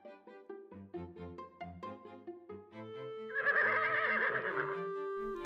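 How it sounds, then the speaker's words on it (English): A horse gives a clear, close whinny. The call rises in a series of pulsing, wavering bursts and ends in a brighter, sustained neigh, with no other sounds around it. "The horse."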